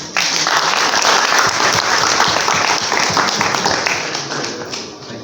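Audience applause at a Uganda tourism ministry event after a minister's speech: dense, sustained clapping from a large crowd, steady and loud for about four seconds before gradually thinning out.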